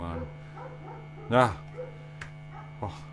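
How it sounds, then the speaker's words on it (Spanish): A dog barks once sharply, then gives a couple of fainter yips in the background of an indoor recording, over a steady electrical hum. "ese perro que no para de ladrar"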